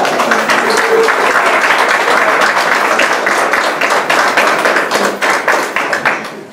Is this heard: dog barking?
no